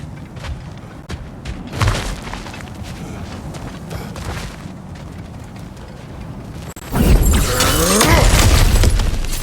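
Cracked ground is smashed in God of War Ragnarok, heard as a busy game soundscape with sharp cracks and thuds, then a loud crashing, crumbling burst of breaking rock that swells and lingers near the end.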